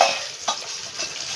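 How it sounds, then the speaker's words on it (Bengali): Salted, turmeric-coated pieces of carp fry in hot oil with a continuous hiss, broken by a couple of short louder crackles as the pieces are moved or stirred. "এবার আমি মাছগুলোকে এক এক করে ভেজে নিচ্ছি"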